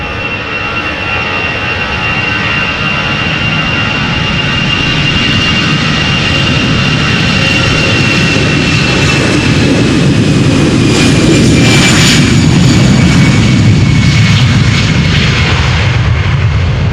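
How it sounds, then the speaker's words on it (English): EasyJet airliner taking off at Amsterdam Schiphol Airport, a loud, steady jet engine roar that builds slightly with a sustained whine, heard over wind for the whole stretch. "We have EasyJet taking off."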